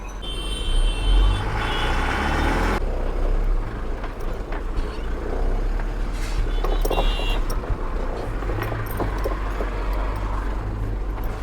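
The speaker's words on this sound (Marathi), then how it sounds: "आता मी गाडी वरती काढतो" A vehicle is driven up onto the road in Dhule, its engine rumbling steadily and fairly loud and near, with some brief mechanical noises over it.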